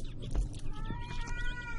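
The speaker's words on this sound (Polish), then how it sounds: "Znów słyszę koty." Cats meowing in a horror video game, a short plaintive mew with a wavering tone over a low droning background, moderately close.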